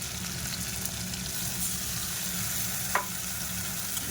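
Spice masala of chili, turmeric and cumin powder with a little water frying in oil in a pan, a steady close hiss with an occasional scrape of stirring.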